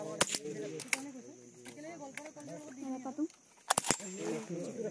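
Sharp gunshots crack from rifles during firing training for a competition, a few close reports, some in quick pairs, breaking through excited talk among several people.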